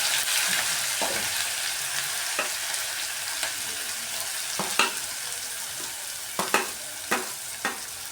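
Chopped onions sizzling in hot oil with cumin in a pan, a steady frying hiss broken by several sharp stirring scrapes and clacks toward the end, with no voices.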